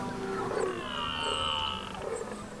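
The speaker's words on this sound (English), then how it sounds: "You can hear the reds roaring." Red deer stags roar during the rut in the Australian bush, drawn-out guttural bellows at a moderate distance, overlapping in a long low groaning call.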